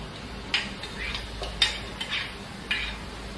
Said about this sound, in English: So start the stir